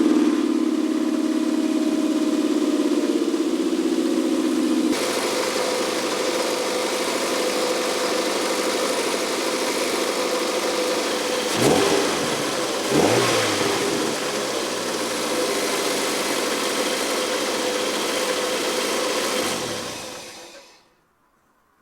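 A 20-year-old Toyota MR2 engine runs steadily after being cranked over, warming up at a constant hum with a couple of brief revs midway before it shuts off at the end.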